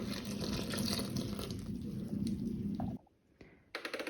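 Milk pours into a bowl of dough ingredients: all-purpose flour, powdered sugar, egg yolks and instant yeast. A steady, close liquid gush runs for about three seconds, then a short quiet gap and a brief return of splashing.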